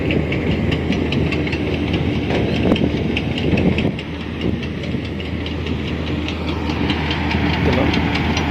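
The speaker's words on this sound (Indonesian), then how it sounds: "traktor yang bisa berjalan di air." Engine of an amphibious tractor fitted with floats, moving across the water of Rawa Pening lake, a steady loud mechanical drone running throughout with faint rhythmic clatter and some background voices.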